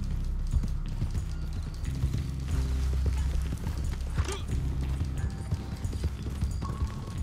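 Horse hooves clip-clop steadily in Red Dead Redemption 2, a continuous close gait with a brief whinny-like tone midway, alongside game ambience and low rumble.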